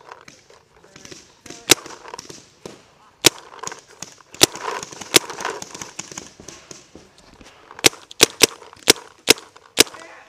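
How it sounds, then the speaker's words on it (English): Paintball guns firing after a rainy day, a string of sharp, snappy pops, some close and loud, others fainter, coming in irregular bursts amid chatter from players on the field. "they're shooting at me"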